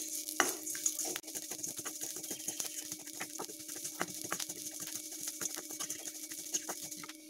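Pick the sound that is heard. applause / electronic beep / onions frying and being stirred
onions frying and being stirred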